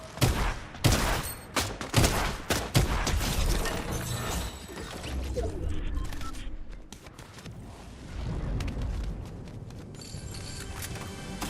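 Dense Fortnite gunfire erupts in rapid clustered bursts at the start, then gives way to mechanical clattering and lingering game noise at steady loudness.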